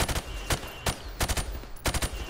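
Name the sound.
gunfire shooting pop-up targets, from video game Modern Warfare Remastered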